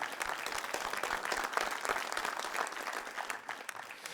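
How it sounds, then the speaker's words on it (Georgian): Studio audience applauding a guest on a television show, steady dense clapping throughout at moderate volume, with no voices over it. "აპლოდისმენტები."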